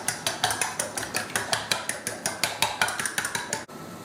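A fork or whisk rapidly beats eggs in a bowl for a preserved radish omelette, a steady fast rhythm of about twenty clinking strokes that stops abruptly near the end.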